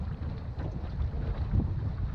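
Strong wind on a fishing boat at Wivenhoe Dam, a loud continuous low rumble of gusts buffeting the microphone, with no voices.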